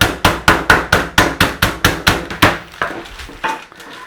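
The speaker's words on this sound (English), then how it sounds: "We want to be hammering them down to about 1/4 inch thick." A meat mallet pounds a pork schnitzel thin, about a dozen loud, evenly spaced close thuds in a steady rhythm before the blows slow and soften at the end.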